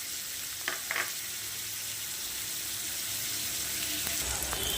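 Vegetables with capsicum and peas stir-frying in a pan for veg fried rice, a steady close sizzle with a few brief scraping stirs near the start and end, no talk.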